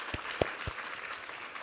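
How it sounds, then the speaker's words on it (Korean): A church congregation claps during a worship service after a sermon reading. A few sharp, distinct claps at the start give way to softer, scattered crowd clapping that fades. "우리 하나님께 감사와 영광의 박수 올려드리겠습니다"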